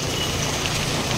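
Heavy monsoon rain falls steadily in a dense, even hiss, loud and close, with no speech.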